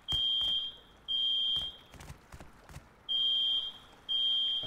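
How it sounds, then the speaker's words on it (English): An audio alarm in the video game Rust sounds in loud, sustained high-pitched tones, four long blasts with short gaps, alone apart from faint footsteps or clicks between them. "you power it and it makes an alarm sound"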